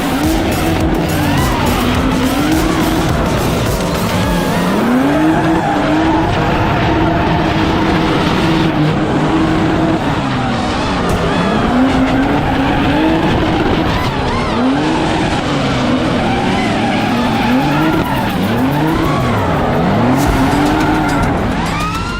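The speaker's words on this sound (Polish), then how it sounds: "W finale A trafiłem na piękne E36 z V8 pod maską Maćka Ponikiewskiego." BMW E36 with a V8 swap drifting in a competition final at a Bielsko-Biała drifting championship, the engine revving and bouncing off the limiter in waves while tires squeal continuously, loud and close throughout.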